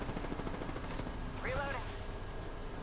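Rapid gunfire in the Apex Legends battle royale game, dense overlapping bursts running the whole time at steady loudness, with a short game voice line rising over the shooting midway.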